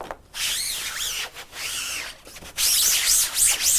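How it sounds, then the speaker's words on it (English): Rags rubbed vigorously over a wet screenprinting screen in long back-and-forth strokes, a loud close scrubbing swish with brief pauses between passes. "wipe it out."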